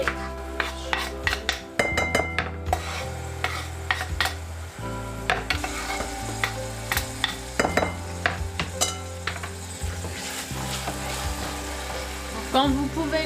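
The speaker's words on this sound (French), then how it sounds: "mon oignon il a commencé à cuire" Onion cooks in a pan, giving a continuous soft sizzle broken by repeated scraping clicks of a utensil against the pan, close and steady throughout.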